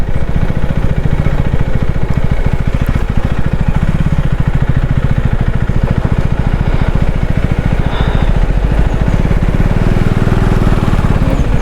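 A KTM Duke 390 motorcycle engine runs steadily and loudly up close, a constant throbbing rumble with rattling clatter throughout.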